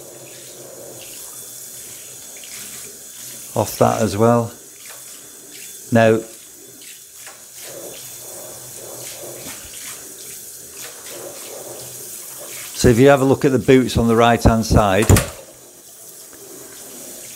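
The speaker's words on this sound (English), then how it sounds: "let's get the shower head and demonstrate it" Water spraying steadily from a shower head onto waterproofed boots, a constant hiss like a shower stream, with a person talking over it in two stretches.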